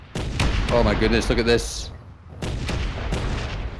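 Orbital bombing explosions in the video game Space Engineers: several broad booming blasts and rumbling impacts over about four seconds, loud and close, with someone talking excitedly over the first part.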